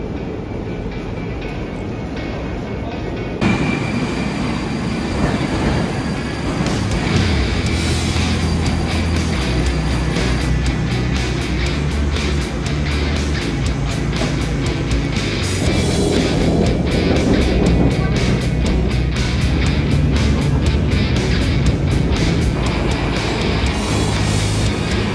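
A Moscow metro subway train rides through underground tunnels with a steady loud roar of wheels and motors, rumbling and rattling continuously with no talk.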